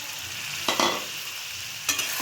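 Chopped ridge gourd is tipped into a hot pan and stirred, bringing two short bursts of scraping sizzle over a steady low frying hiss, close and fairly loud with no talk.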